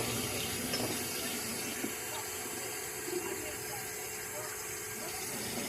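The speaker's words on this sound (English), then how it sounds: "We're just filling them with water because," Water runs steadily into small bottles being filled for hot sauce making, a continuous close trickling hiss that carries on evenly throughout.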